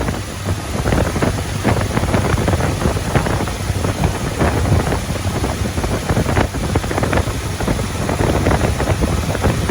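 A 1967 Pontiac GTO engine idles on choke at operating temperature, a loud, steady, rough rumble up close with buffeting wind noise over it and no talk.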